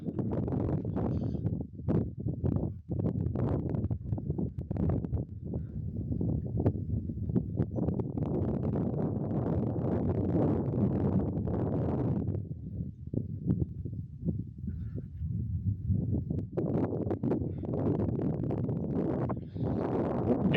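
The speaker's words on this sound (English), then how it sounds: "It is dusk and windy." Wind blows steadily at an ocean beach at dusk, a broad rushing roar buffeting the microphone in gusts, with deep low rumble and brief surges, with no other clear sounds standing out.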